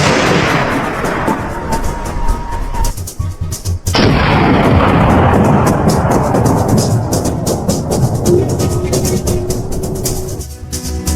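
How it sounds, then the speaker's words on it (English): A rifle fired at a wild boar during a crop-raiding hunt, a loud close sharp report with a long rolling echo, followed by a second blast a few seconds later that also rolls away into the distance. "I raised my rifle and fired."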